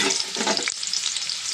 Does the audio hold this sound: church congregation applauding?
no